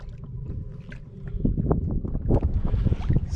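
Torqeedo electric outboard driving a 3D tender dinghy backward in reverse: a steady low churn of water and hull wash that builds and grows louder partway through, with gusty wind noise over the top and no talking.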